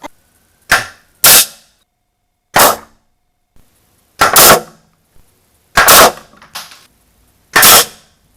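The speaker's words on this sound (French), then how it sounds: "Donc 5 tirs avec le Zoraki, regardez-moi ça." Sharp, loud cracks from a Zoraki pistol fired at metal cans and a bottle, several separate shots with uneven gaps between them and no talking.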